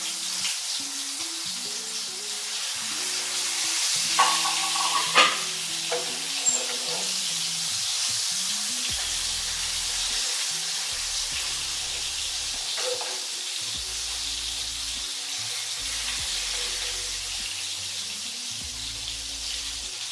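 Eggplant slices fry in hot oil in a pan, giving a steady broad sizzling hiss throughout, with background music playing beneath.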